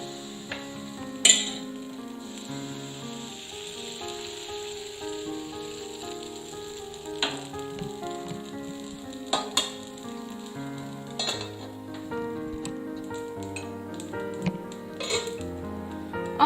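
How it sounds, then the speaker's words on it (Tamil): Appam batter cooking in a heated appam pan, a soft steady sizzle with scattered clinks and scrapes of a utensil against the pan. "ஆப்பச்சட்டி சூடானதும் நம்ம இதுல ஆப்பம் செய்யலாம்"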